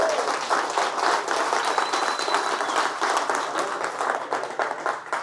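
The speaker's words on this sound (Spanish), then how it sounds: "Si le vas a dar un aplauso, dáselo fuerte." A church congregation breaks into a strong, sustained round of applause, a dense wall of many hands clapping in a reverberant room, steady and loud throughout.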